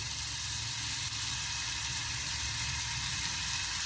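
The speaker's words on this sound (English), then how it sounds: "what you want to do is melt down 1 stick of butter" A stick of butter melting in a pan gives off a steady, soft sizzle with an even hiss and a low hum underneath, constant and fairly quiet, with no talking.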